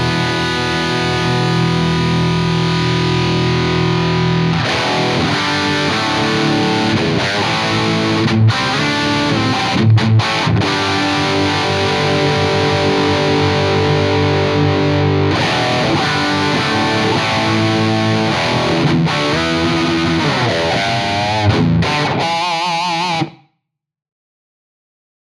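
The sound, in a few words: high gain electric guitar through ENGL Fireball impulse response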